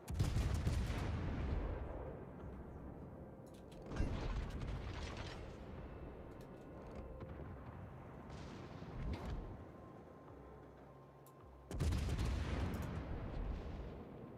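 Battleship main guns firing in the World of Warships naval combat game, with loud booming salvos near the start and again toward the end, separated by rumbling mechanical clatter and fainter distant reports.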